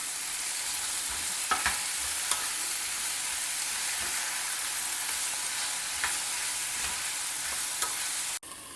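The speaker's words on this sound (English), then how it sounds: "Mix it all well together." Ivy gourd pieces are stirred into well-fried onions in a pan, giving a steady soft sizzle with occasional scraping clicks of the spoon, ending with a brief clunk.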